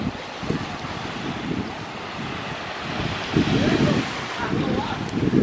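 Ocean waves washing onto the beach at Hyatt Ziva Cancun, a low steady rumble of surf with wind buffeting, swelling louder toward the end.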